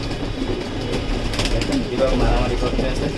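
Young racing pigeons coo softly amid a steady low rumble and background murmur, the birds fairly close.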